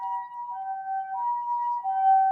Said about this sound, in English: You hear that? The sirens.